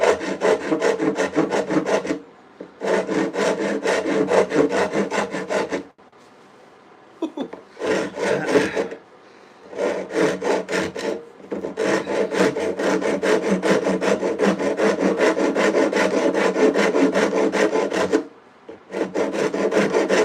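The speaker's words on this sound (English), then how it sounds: "Tell you what, this rasp is not messing around." A rasp files the wooden handle of a handsaw in long, loud, rhythmic strokes, close and alone, broken by a few short pauses.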